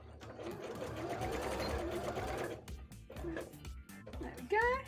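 A sewing machine stitches a rainbow bra, its motor whirring steadily for a few seconds before stopping, followed by handling sounds and softer clicks.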